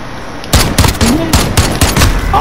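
Gunfire in the video game Modern Warfare: a loud, close burst of about eight rapid shots in quick succession, starting after a brief quiet moment.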